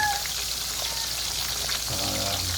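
Stingray fries in hot oil with a constant soft sizzle and crackle, like light rain, heard fairly quietly throughout.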